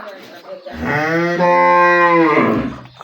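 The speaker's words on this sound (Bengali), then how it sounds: "এটা হলো ফ্রিজিয়ান গাভীর বাচ্চারা" A Friesian cow calf on a farm gives one loud, close, drawn-out moo lasting well over a second, rising then holding steady, with faint background noise before and after.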